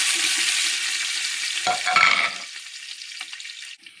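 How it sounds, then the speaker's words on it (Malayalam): Loud sizzling of onions and green chillies frying in hot oil, with a stir partway through, then the hiss drops away to quiet with a brief clatter at the end. "വെളുത്തുള്ളി ഇട്ട് വഴറ്റാൻ വെച്ചിട്ടുണ്ട്"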